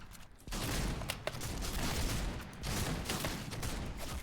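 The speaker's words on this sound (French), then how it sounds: "Ça me tire dessus." Rapid bursts of automatic gunfire in a video game, a dense, fairly quiet crackle of overlapping shots running continuously for several seconds, with no talk.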